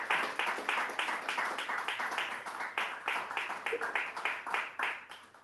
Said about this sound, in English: please give it up for a round of applause